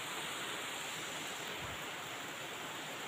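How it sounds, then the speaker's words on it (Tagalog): Light rain falls steadily outdoors as a continuous soft, even hiss, with one faint low thump midway and no voices. "Hinay ng ulan guys"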